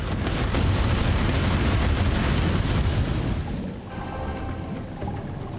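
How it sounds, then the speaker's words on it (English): A meteorite strike spell in the fantasy game Divinity: Original Sin brings a dense, loud, rumbling roar of impacts and debris. It cuts off sharply, leaving a quieter crackling tail. "meteorite strike?"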